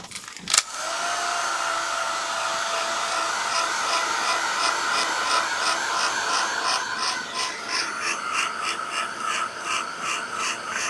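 A heat tool blows steadily over a paper scrapbook layout, a constant whirring rush that starts after a brief knock and holds for about ten seconds, with faint rubbing ticks over the drone.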